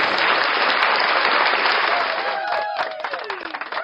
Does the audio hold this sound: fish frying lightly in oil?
no